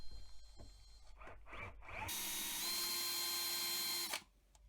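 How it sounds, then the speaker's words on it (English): A power drill whirs in short bursts, then bites into a metal rivet on a Majorette Jeep Cherokee toy car with a sustained high grinding whine for about two seconds before stopping abruptly. "Take my drill and destroy the rivet."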